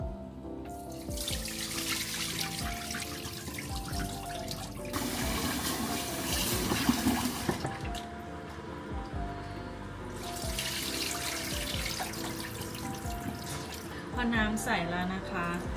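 Water runs from a kitchen tap into a pot or sink for blanching food in a home kitchen, a steady splashing flow that swells and eases in bursts, with someone talking over it.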